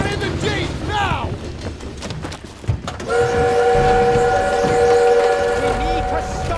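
An armored train runs amid World War 2 combat, its rumble and clatter heard under shouting voices and bangs, then a sustained whistle-like horn tone holding loudly to the end.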